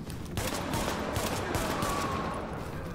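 Gunfire in The Division video game, a sustained rattle of automatic weapon shots in rapid bursts, loud and dense throughout with a faint tone ringing underneath.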